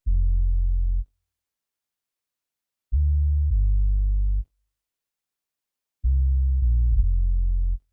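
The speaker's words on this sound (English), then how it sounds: "Okay, next we've got the bass." A deep, smooth bass line from a chill lofi Christmas track plays in three short phrases of sustained low notes, separated by silent gaps, with no other instruments.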